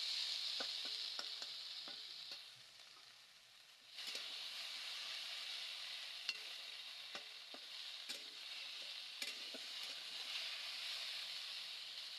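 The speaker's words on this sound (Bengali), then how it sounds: "কড়াইতে তেল দিয়ে তাতে ঢেঁড়স দিয়ে দিলাম" Okra frying in oil in a wok over a clay stove, giving a steady, even hiss of sizzling with a short dip midway and occasional light clicks of a spoon against the pan.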